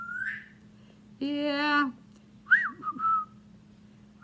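A pet bird whistles back in several clear, high tones: a short note, then a sustained warbling whistle, then a few rising chirps. A person says a brief word nearby, and a low steady hum sits beneath.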